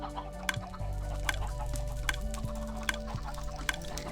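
Minecraft 1.8 chickens cluck in a chicken-cooking farm, a string of short, soft clucks at an irregular pace over a faint constant hum, with occasional sharp clicks.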